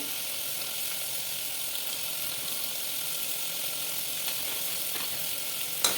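Peanuts frying in hot oil for semiya upma, giving a steady, even sizzle that fills the whole stretch at close range, with a faint clink near the end and no voices.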